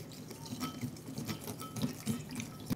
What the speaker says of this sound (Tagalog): at 1/4 cup ng tubig